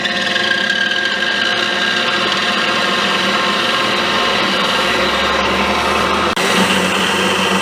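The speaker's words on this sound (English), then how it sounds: "Just spot them all real quick and then we'll drill them." A power drill with a 17/64-inch bit whirs steadily and close in a metal workshop, boring holes for a grinding wheel balancing stand, with a continuous whine and a short click near the end.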